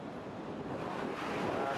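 High ocean waves pounding Suwuk beach in a dangerous swell, a dense continuous roar of surf mixed with heavy wind noise buffeting the microphone.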